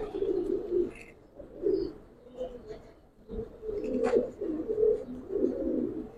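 Giribaz pigeons in a loft give repeated soft, low coos in overlapping phrases at moderate distance, with faint background rustling and occasional brief chirps.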